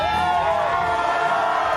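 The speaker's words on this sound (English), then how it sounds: "Listen to that crowd." A crowd at an independent wrestling event in East San Jose roars and cheers, a loud sustained mass of voices with whoops rising above the din, lasting under two seconds without a break.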